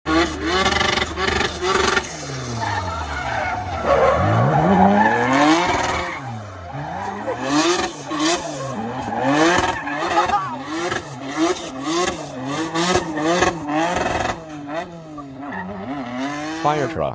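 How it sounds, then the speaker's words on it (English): A video game car drifts with long squealing tire skids and revving engine, loud and continuous, over music-like harmonic tones with a voice speaking at times. "This car is drift."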